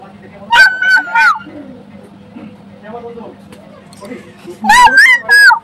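A young child dressed up as a cat with face powder gives two loud, high, wavering meow imitations, one near the start and one near the end, with softer adult talk in between.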